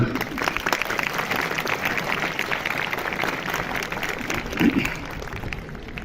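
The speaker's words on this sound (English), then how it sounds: "So, a round of applause for Dasho Benji." Dense, steady applause from a large audience fills the room, sustained and fairly loud, with faint voices mixed in.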